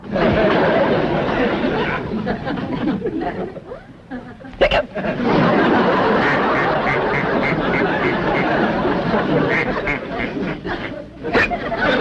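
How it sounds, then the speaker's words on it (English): Charlie, a pet duck, quacks in a steady, fairly loud chatter lasting several seconds, briefly interrupted by a short pause, in an old 1962 television sitcom scene. "we got a drunk duck on our hands"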